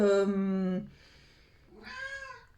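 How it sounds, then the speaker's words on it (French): A domestic cat meows loudly and close by, a long insistent call followed after a pause by a second, shorter meow, wanting to be let outside at night. "Oui, mon chat. Il veut aller dehors."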